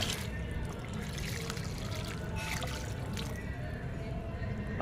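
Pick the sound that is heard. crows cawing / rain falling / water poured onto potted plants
water poured onto potted plants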